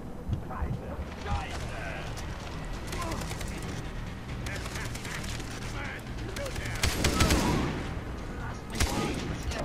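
Sniper gunfire in the video game Far Cry 3, heard as scattered bursts of shots and impacts over busy game noise, fairly faint, with someone talking at times.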